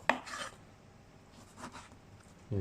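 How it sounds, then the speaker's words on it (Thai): A knife slices pork shoulder on a cutting board with a couple of short, soft scraping strokes and a quiet thud at the end, close and low in level with no talking. "ทีนี้การหั่นนะ ก็หั่นตามลายกวางของเนื้อ"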